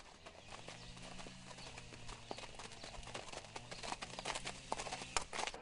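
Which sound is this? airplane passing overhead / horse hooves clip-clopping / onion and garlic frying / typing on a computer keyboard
horse hooves clip-clopping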